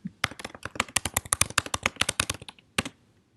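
Fast, uneven keystrokes clatter on a computer keyboard, close and distinct, a steady burst of typing that pauses briefly before a final couple of taps.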